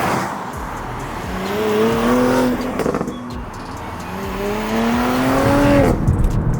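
A 2022 Porsche Macan GTS in Sport Plus mode revs up twice in rising sweeps, with a loud, clean engine note and a rushing background drone and no talk.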